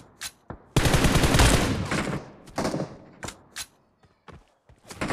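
Gunfire in PUBG Mobile during a tunnel fight, a loud sustained automatic burst followed by scattered single shots and short volleys separated by quiet gaps.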